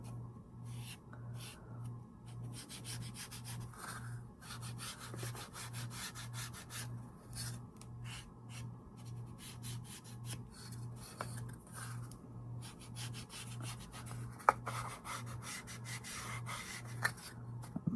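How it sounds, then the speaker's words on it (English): Distress ink rubbed around the edges of a wooden primitive sheep sign, a steady run of soft scuffing, dabbing strokes close by over a faint, even pulsing hum, with no talking. "I am going to take the Distress ink, and I am going to go around the sign with it."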